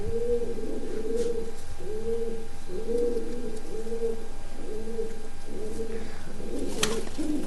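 Pigeons, including a white-eyed bird, coo in a steady series of soft, repeated low calls, close by and clear over a quiet background with only faint noise.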